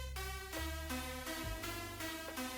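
The lead melody in the second part of a hype drop track's hook plays over dense full production, with steady bass and beat underneath, loud and continuous with no voices.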